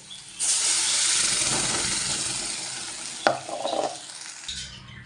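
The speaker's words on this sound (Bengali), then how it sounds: "এইভাবে ভেজে নেওয়ার পর এবার আমি বেটে রাখা কচুটা দিয়ে দেব" Ground taro paste dropped into hot oil bursts into a loud, steady sizzle, followed by a clank and the scrape of stirring as the hiss fades off, with no talking.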